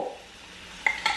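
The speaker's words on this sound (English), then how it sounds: "Garlic. Sizzle." Garlic hits a hot pan with a soft hiss, followed by two brief clinks of utensils against the pan in a short burst.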